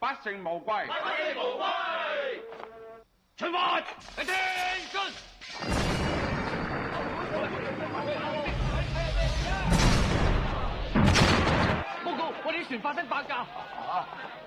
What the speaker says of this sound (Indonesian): tiba-tiba dua kapal kepolisian laut meledak entah kenapa